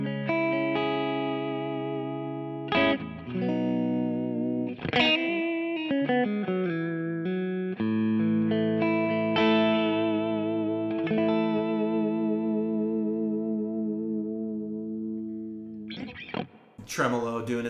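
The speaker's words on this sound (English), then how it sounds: "Tremolo doing its thing there." A Suhr JM Pro electric guitar plays sustained chords and melodic lines through a tremolo effect, its volume pulsing steadily, rich and clear, with no talking over it.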